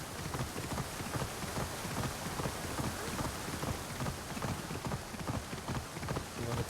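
Steady clip-clop of horse hooves trotting at an even rhythm in the video game Assassin's Creed Odyssey, continuous and moderately close, with no talking.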